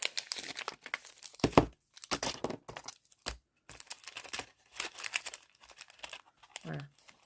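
A cardboard box is cut to size: crackly, crinkling bursts of cutting and tearing come in irregular spurts with short pauses, close and fairly loud.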